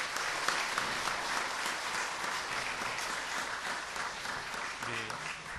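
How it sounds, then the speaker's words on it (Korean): A church congregation applauds a newly installed elder at a Korean Methodist thanksgiving service, a dense, steady clapping throughout, with a brief voice heard near the end. "축하의 박수 한번 보내주시기 바랍니다."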